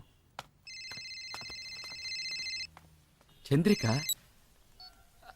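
A mobile phone rings in a movie scene: a loud electronic ringtone sounds for about two seconds, then a shorter burst follows, with quiet room tone in between.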